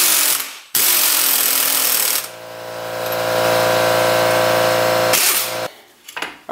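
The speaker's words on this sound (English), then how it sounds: "these bolts that are going to hold this to the wheel wells in the trunk, these are going to be torqued at 33 foot-pounds" A tool tightens the rear strut mounting bolts into the trunk wheel wells of a 2002 Mitsubishi Lancer, with close, harsh mechanical bursts framing a steady buzzing whir of a few seconds, then brief rattles.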